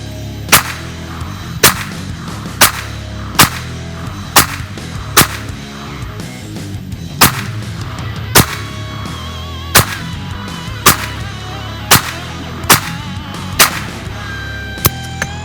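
An Arcus 98DAC 9mm pistol firing cheap ammunition in an accuracy test at 10 meters: about fourteen loud, sharp shots at a steady, unhurried pace, each crack ringing out alone.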